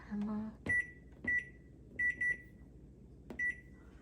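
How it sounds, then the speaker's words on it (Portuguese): A digital kitchen timer beeps while being set for baking bread, with several short electronic bleeps in uneven pairs and singles, fairly close, over faint kitchen background noise. "Vou colocar o timer ali."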